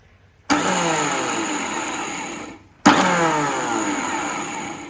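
A mixer grinder powders roasted rice flakes for rice flake laddu in two loud, steady bursts, the first about two seconds long, then a short pause before the second begins.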